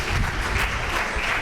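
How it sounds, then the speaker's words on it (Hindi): Loud, dense applause from an audience at a Doctors Day drama event, honouring the play's writer and director, a senior gynecologist; steady clapping fills the short stretch with no talk. "उनके लिए एक बार जोरदार तालियां हो जाए।"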